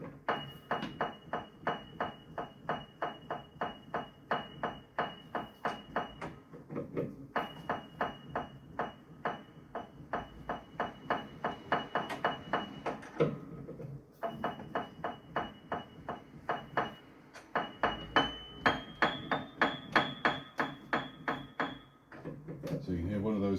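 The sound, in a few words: out-of-tune upright piano notes being played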